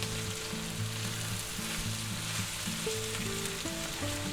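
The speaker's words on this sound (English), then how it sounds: "We're going to let our onions get a little softer." Onions and peppers sauté in a pan with a steady close sizzle and crackle, a faint low tone running beneath, no voices.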